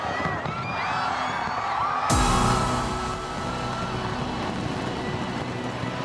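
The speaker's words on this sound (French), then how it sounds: "c'est donc le traditionnel feu d'artifice à Sydney en Australie" Fireworks display over Sydney, Australia, for New Year: a loud bang at about two seconds amid a steady crowd roar and cheering, with crackling bursts continuing beneath the noise.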